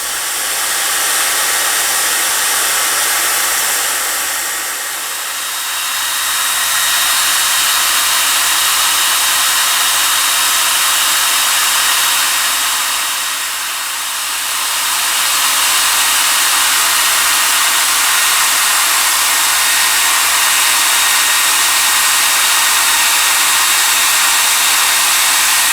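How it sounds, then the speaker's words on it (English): Heat gun blowing steadily on a Vetter motorcycle hard bag to soften a decal for removal, a loud continuous airy roar with two brief dips in intensity, no talking. "I have to stop, and I have to continue to heat and continue the decal removal on the whole piece"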